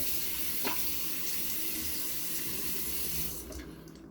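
A bathroom sink tap runs steadily close by to wet the face before a wet shave, with a brief splash of hands in the stream before the flow eases off at the end.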